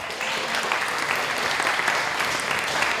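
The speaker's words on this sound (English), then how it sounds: "Give yourselves a big round of applause" A school audience at an opera performance gives itself a big round of applause, a full, continuous clatter of many hands that holds steady from start to finish.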